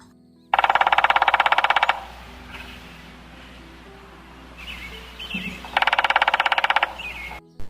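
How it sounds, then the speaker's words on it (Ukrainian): A woodpecker drums on a tree in a winter forest, giving two loud, fast rattling bursts separated by a pause with faint bird calls in between. "Послухайте, як вистукує дятел."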